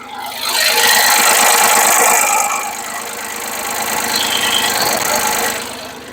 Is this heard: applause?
no